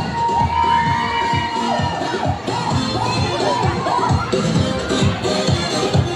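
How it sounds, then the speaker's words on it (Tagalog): A school crowd at a Buwan ng Wika event welcomes grade-five contestants with loud, continuous cheering and children's shouts, a dense steady roar with scattered yells throughout. "isang masigabong palakpakan na may kasamang hiyawan"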